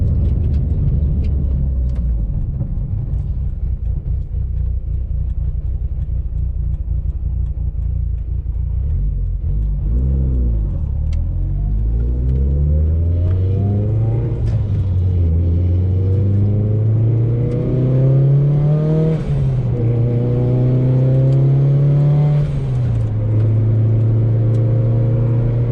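A Mitsubishi Evo with an oversized turbo and a twin-disc clutch drives along. The engine hum stays low and steady, then climbs through several rising rev sweeps, heard up close and alone.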